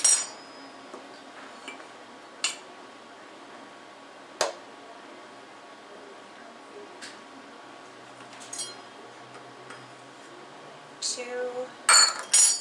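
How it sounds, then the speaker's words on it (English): Measuring spoon scooping dry ingredients and being leveled with a knife while baking raspberry pie, heard as a few sharp metallic clinks and taps spread through a quiet stretch, with a busier clatter near the end. "spoon in, knife level off"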